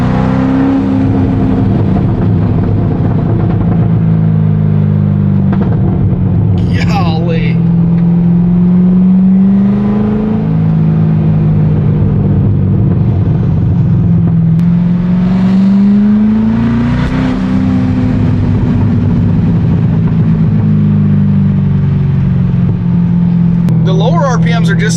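A C6 Corvette with a muffler-deleted exhaust, revved loudly up and down in several slow swells over a deep, droning idle.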